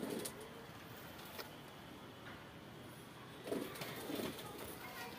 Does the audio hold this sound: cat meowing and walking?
no